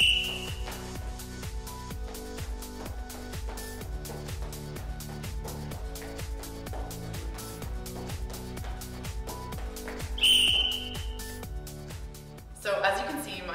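A short, shrill whistle blast ends a timed roller derby fitness test, standing out clearly over steady, rhythmic backing music; another brief whistle tone sounds at the very start.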